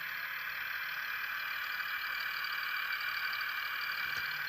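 Sound module of a Roco Y8504 model locomotive under Z21 digital control, giving a steady, quiet diesel idle hum with a constant tone and no change in pace.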